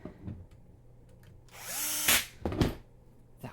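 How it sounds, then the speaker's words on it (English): A power driver at full speed backs screws out of a Qidi Q1 Pro 3D printer, a rising whir for about a second followed by short bursts, close and fairly loud. "I'll take my driver and we'll turn it to full lock because we're removing screws"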